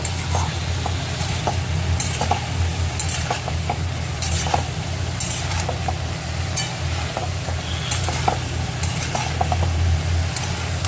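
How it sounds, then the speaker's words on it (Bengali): Mixed winter vegetables with turmeric being stirred in a pan over medium flame, a continuous frying sizzle with repeated scraping and clinking strokes of a utensil, close and alone without speech. "ভালো করে আমি উপর নিচ করে নাড়াচাড়া করে নেব"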